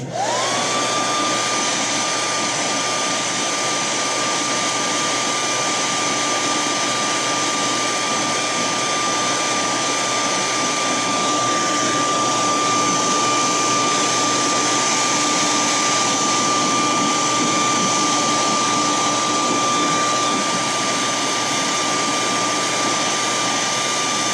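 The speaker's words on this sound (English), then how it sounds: "let's give that a little heat set." A heat gun heat-sets airbrushed paint on a metal shad fishing lure, giving a steady, loud, close blowing roar with a fixed whine that runs unbroken from start to finish.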